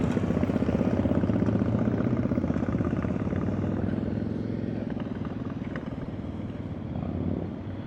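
A motorcycle engine chugs at low revs during slow-speed riding practice in Colorado, a steady, loud, close mechanical rumble with a slight swell near the end and no speech over it.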